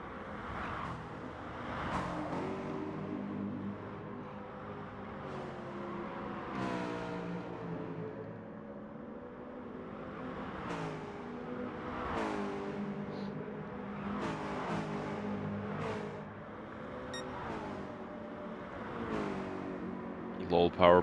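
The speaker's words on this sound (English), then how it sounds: "Lowell Power pushing the car to its limits now" Race car engines in a sim racing league race, a steady droning whine that rises and falls through repeated gear shifts, moderately loud under continuous commentary.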